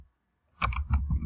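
A short run of computer keyboard typing, a few quick close keystrokes after a moment of silence.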